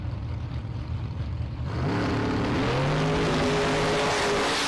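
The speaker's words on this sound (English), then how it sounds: "We're running round 4 of box door car right now." Box door cars at a drag racing event roar off the line, a steady broadband engine rush that swells and holds with rising engine tones, loud and close.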